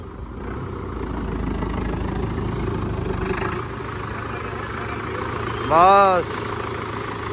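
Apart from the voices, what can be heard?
Sonalika 60 tractor engine idling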